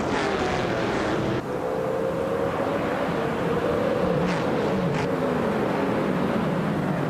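Race cars starting a race at Dessauer Rennstrecke in a racing video game, a continuous droning roar of engines with rising whine tones and brief passing swells, no talking.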